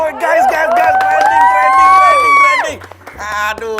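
A studio audience on an Indonesian TV talk show cheers loudly, with one long rising whoop over crowd noise. People are also talking amid the commotion.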